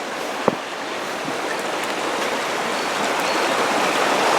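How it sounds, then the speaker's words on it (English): River water rushing steadily through a rocky gorge, a continuous broad wash of flowing water heard close and alone, with one brief knock near the start. "But just imagine the river as high"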